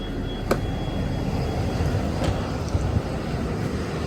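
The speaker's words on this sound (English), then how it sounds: "right now it is just filling up air in the airbags" A steady, broadband mechanical hiss and rumble runs throughout as an air compressor fills a motorhome's empty air suspension bags, with a couple of faint clicks and no talking.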